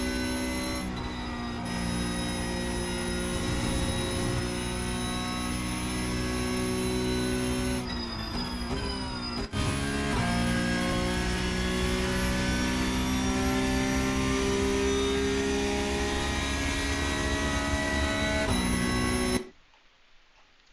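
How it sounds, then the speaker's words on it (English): Porsche Cup race car engine in iRacing at Spa, a loud steady drone with dense harmonic whine, shifting pitch around gear changes near 8 and 10 seconds, running continuously until cutting off abruptly near the end. "Just going to turn that engine noise down just a little bit"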